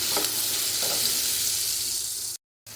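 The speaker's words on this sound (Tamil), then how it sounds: "வெங்காயத்தை நல்லா வந்து வதக்குங்க எண்ணெயில்" Long-sliced onions sautéing in oil, a dense continuous hiss of frying close up with a couple of faint stirring touches, cutting to brief silence near the end.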